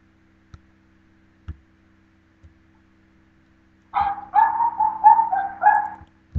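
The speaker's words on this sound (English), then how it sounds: "Doggy be quiet." A dog barks in a quick burst of about five or six yaps near the end, after a few faint clicks and a low hum in an otherwise quiet room.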